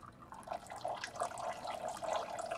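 Water runs and trickles steadily as a pot is drained into a kitchen sink, a faint, continuous splashing gurgle with small fluctuations.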